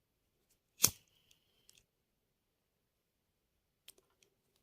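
A single crisp snip of scissors cutting crochet thread rings out, followed by a few faint clicks and light handling noises in an otherwise quiet room.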